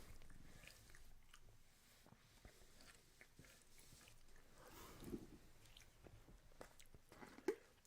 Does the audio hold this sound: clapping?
no